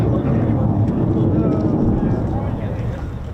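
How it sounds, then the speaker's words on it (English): Loud, steady jet engine roar from an F-15 or F-35 fighter at RAF Lakenheath, broadband and sustained throughout before easing slightly toward the end, with people talking underneath. "let's turn the afterburner off now"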